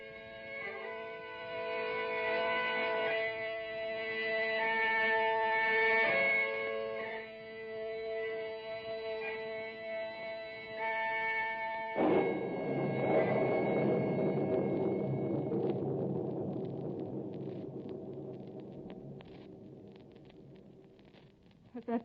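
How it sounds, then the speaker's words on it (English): Thunder sound effect in a 1949 radio drama: a sustained low rumble swells in near the middle and rolls on loudly beneath tonal music and drones, fading slowly toward the end. "Was that thunder?"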